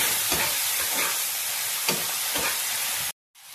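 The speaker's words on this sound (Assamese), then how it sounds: "এতিয়া এইখিনি সুন্দৰকৈ মই ভাজি লওঁ।" Chopped tomato frying in a pan gives a loud, dense, continuous sizzle with a few stirring scrapes, then cuts to silence near the end.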